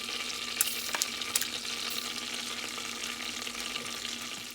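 Dry masala and chilies fry in butter in a hot pan, giving a steady, close sizzle throughout with a few sharp crackles and pops near the start.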